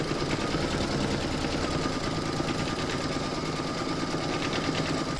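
An embroidery machine stitches a placement outline through vinyl for an in-the-hoop dog pouch, a steady fast mechanical whirring and needle chatter running continuously at close range with no talking.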